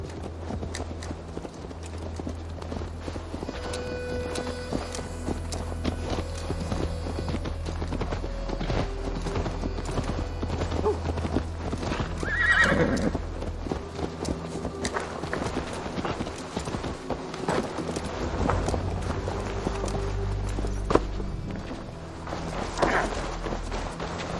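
Horse hooves clip-clopping in Assassin's Creed Valhalla, steady and fairly close over a low game music and ambience bed, with a brief neigh or whinny standing out partway through.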